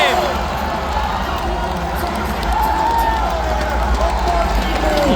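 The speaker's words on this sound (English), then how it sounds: "The crowd erupts in cheers" A large arena crowd cheers and roars at the Brawlhalla grand finals at the Gateway Center Arena, a loud, steady wall of voices lasting the whole stretch, with scattered shouts rising above it.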